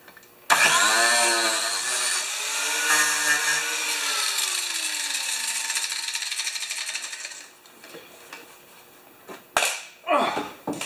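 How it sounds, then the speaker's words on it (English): An old grinder running at work on a Kia Soul door during a speaker replacement, giving a loud, steady whine with a falling pitch that cuts off after about seven seconds, followed by a few rough scraping bursts. "This grinder's getting old,"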